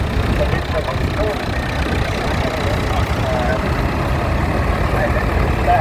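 Vintage and modern tractors at the Kent County Show give off a dense, steady engine rumble close by, with a voice talking over the noise throughout.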